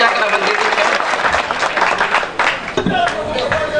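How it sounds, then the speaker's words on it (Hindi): Applause from a live poetry-gathering audience for poet and host Manish Sukhwal in Mandalgarh, Bhilwara: loud, dense clapping that runs steadily throughout, close and full, with crowd noise mixed in. "जोरदार तालियां बजाकर"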